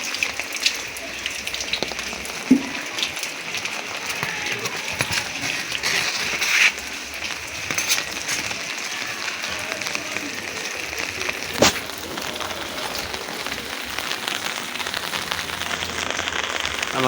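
Heavy rain pours steadily over Dhaka city, a dense, even hiss of drops on surfaces with a couple of brief louder splashes and no clear talk.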